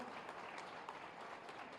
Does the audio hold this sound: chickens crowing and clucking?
no